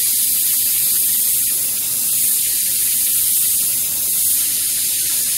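An airbrush sprays red paint in a loud, continuous, steady hiss that stays even and close for several seconds.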